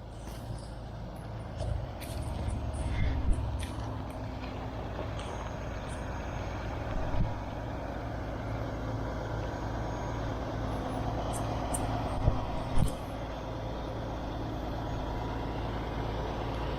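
A truck engine idles steadily, a low continuous rumble that runs the whole time with a few faint clicks and brief higher sounds on top and no talk.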